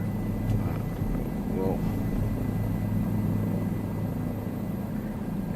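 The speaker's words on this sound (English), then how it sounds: "this is like the fourth time I'm flying a helicopter" Steady, droning rotor and engine hum of a helicopter flying in Microsoft Flight Simulator 2024 over Los Angeles, continuous and fairly loud, with someone briefly speaking over it.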